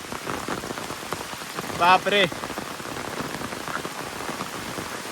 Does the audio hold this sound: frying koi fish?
no